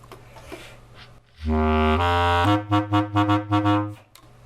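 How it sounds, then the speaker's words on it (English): A deep, reedy bass clarinet holds a long low note and then plays a quick run of six short detached notes, close, over faint room noise. "So if I play the same thing on the bass clarinet,"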